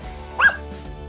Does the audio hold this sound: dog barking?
yes